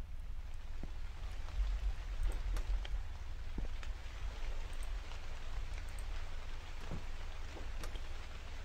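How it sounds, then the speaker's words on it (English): Steady rain in the horror video game The Convenience Store, a soft continuous wash of falling drops with a low rumble underneath and a few faint ticks, no talking. "Oh, it's raining."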